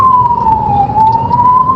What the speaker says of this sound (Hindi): एक ब्लड बैंक की तरफ से एम्बुलेंस है बाबा